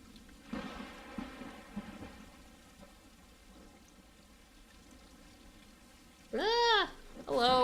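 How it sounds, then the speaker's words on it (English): Rain and thunder from the Stray video game, a soft steady wash with low rumbles, partly under a voice, before a louder tonal game sound near the end. "I just love the sound of rain and thunderstorms."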